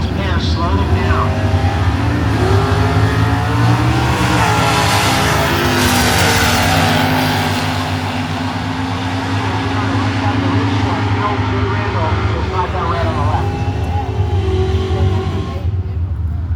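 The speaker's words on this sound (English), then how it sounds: "Jay in the Camaro. James Findle with the 71 Duster" Drag race cars, a Camaro and a 1971 Duster, roar loudly down the strip with steady, droning engine noise that dips and swells, while an announcer talks over them.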